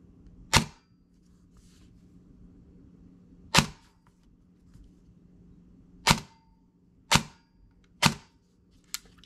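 An airsoft gun fitted with a DSG gearbox and M160 spring fires single semi-auto shots: five sharp, snappy cracks spaced a second or two apart, loud and close, in a quiet room.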